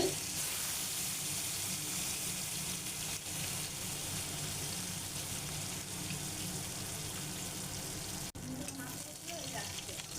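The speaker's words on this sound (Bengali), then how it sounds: "এবার বাকি মাছগুলোও ভেজে নেব একইভাবে" Dense, steady sizzling of katla fish pieces frying in hot oil, loud and continuous with a brief dip near the end.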